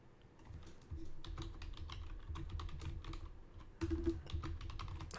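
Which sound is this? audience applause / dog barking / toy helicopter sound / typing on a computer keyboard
typing on a computer keyboard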